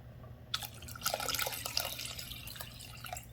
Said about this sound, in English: Okay, so now I'm going to add a little bit more water to it.